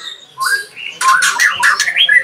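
A caged white-rumped shama of the trotol variety gives loud, harsh squawking calls, one short burst followed by a rapid run of sharp notes, close and clear with no talk over it.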